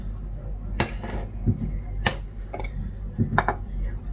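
A spoon clinks and scrapes against a dish while mixing tomato paste and spices for a baked fish and vegetable tray, with scattered taps at an irregular rhythm under low background noise.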